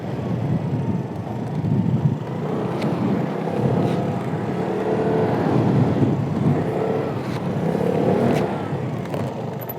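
Scooter accelerating during a motorcycle riding lesson, a moderate engine drone that swells and rises in pitch as it gains speed, with wind noise.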